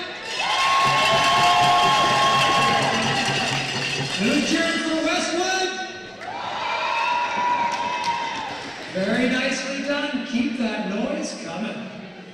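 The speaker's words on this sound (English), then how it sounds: "Who's cheering for Steinbach?" Gym crowd at a varsity boys volleyball championship cheering for Steinbach, loud sustained shouting and cheering in swelling waves, with a voice leading the crowd in between.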